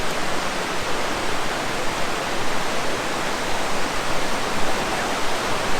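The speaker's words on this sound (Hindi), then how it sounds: "देखें ऊपर से पानी आ रहा है, बर्फ़ पिघल रही है और पानी जो सा नीचे गिर रहा है" Snowmelt water pours down a mountainside waterfall in Fulufjället National Park, Sweden, making a loud, steady, close rushing roar with no break.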